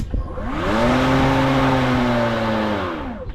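A Litheli EasySurge 18.5-inch electric lawn mower motor spins up after its button and safety throttle are engaged, rising into a steady, close, loud whine with tonal harmonics, then slowing and fading out.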